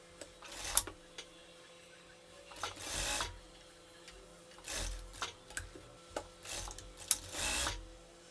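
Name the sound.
straight sewing machine stitching a square neckline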